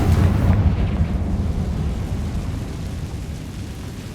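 A Confringo spell explosion in the Hogwarts Legacy video game bursts loud and deep, then rumbles and slowly fades over several seconds.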